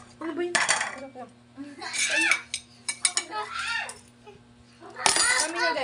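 Food being served with a ladle at a family meal, metal utensils and dishes clinking and clattering in bursts while several people, including a child, talk and laugh close by.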